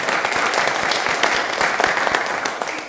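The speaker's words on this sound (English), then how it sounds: "Let's give them a round of applause for conserving those woodlands." An audience at a climate resilience talk in Central Oregon claps steadily and loudly throughout, with dense, even applause and no voices on top.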